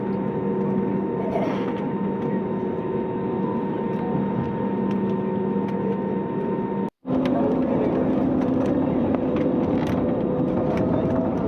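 A passenger jet roars steadily while rolling down the runway for takeoff on a flight to Ladakh, a loud continuous engine drone heard from inside the cabin, briefly cutting out once before resuming.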